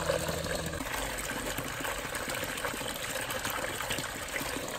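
Water drains from a garden fountain out through a hose, a continuous low trickling and gushing flow at moderate volume, steady throughout with no voices.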